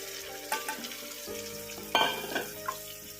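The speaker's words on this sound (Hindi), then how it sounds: "तो थोड़े से टमाटर जब तक गल ना जाएं तब तक हम इसे फ्राई कर लेंगे" Tomatoes fry with masala for sarson ka saag, a steady sizzle under repeated scraping stirs, with a louder burst of sizzling and scraping about midway.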